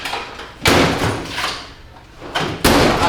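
A tool drawer in a workshop slides open and shut, loud close rumbling rolls and thuds in two bursts with a brief quiet gap, no talk.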